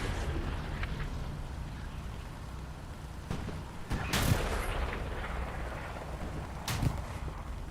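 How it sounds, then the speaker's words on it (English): Anti-tank gun firing in Hell Let Loose, with several heavy booming shots at irregular intervals, one especially loud and close, over a constant battlefield rumble, with no talking. "76 taking some shots, it looks like from that anti-tank gun."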